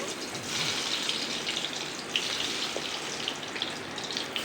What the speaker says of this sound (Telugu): ఆయిల్ హీట్ అయిన తర్వాత ఈ వంకాయ ముక్కలు అందులో వేసి ఫ్రై చేసుకోవాలి